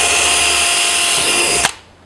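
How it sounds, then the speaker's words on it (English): A power drill whines steadily and loudly while boring a pilot hole near a ridge on a plastic drum, then cuts off abruptly near the end. "So I'm going to drill a pilot hole right here near the edge of that ridge."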